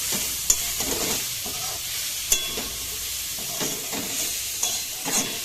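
Patisapta filling is stirred in a hot wok, with a low continuous sizzle and periodic scraping strokes plus a few sharp metallic taps against the pan, heard close with no voices.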